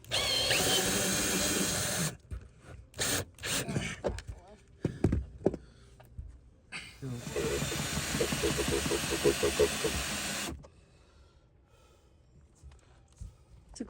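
A power tool drills on a sailboat, loud whirring bursts that start and stop across the stretch, with a long continuous run in the middle and people talking in the gaps.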